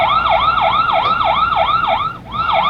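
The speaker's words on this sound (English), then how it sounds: "So that siren is currently going off right now." A loud electronic siren from a solar security camera wails in rapid repeating up-and-down sweeps, close by, briefly cutting out before resuming.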